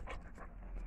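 A dog panting close by in a home, quick short breaths in a brief burst, fairly faint.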